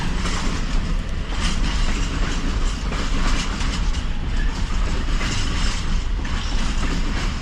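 A long freight container train in a video game rumbles past steadily, a loud, dense roar with faint rhythmic clatter running through the whole stretch.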